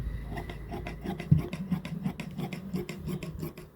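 Scissors cut through lining fabric for a salwar, giving steady scraping, rasping snips that repeat close and quietly, with no speech.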